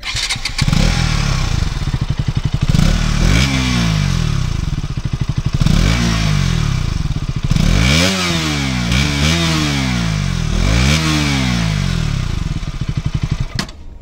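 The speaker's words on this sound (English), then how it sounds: "Now let's take a look at how the exhaust also sounds" A 2022 KTM RC200 motorcycle engine revs repeatedly, its exhaust rising and falling in loud throaty bursts over a steady idle rumble, close up with no talking.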